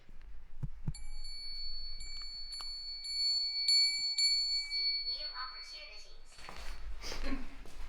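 A ghost-hunting phone app's thin electronic bell tone chimes and rings in short sustained bursts in a hallway, then fades as muffled voices and rustling take over.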